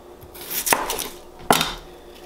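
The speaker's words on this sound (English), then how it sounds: "So I'm gonna cut another onion up for this." Knife chopping an onion on a board, two distinct sharp cuts about a second apart, close and moderately loud with nothing else around them.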